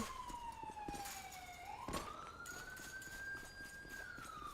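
A police car siren in Grand Theft Auto V wails, sweeping down and back up in pitch, fairly loud over a steady background hum and clatter.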